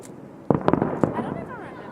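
Chinese New Year fireworks and firecrackers in New York City, 2015: a few sharp, close pops burst out in quick succession, trailed by crackling, while people talk nearby.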